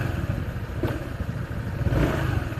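A Skygo Bolt 150 motorcycle engine revs in quick throttle blips, the note rising and falling twice with a mechanical clatter underneath, close and loud throughout.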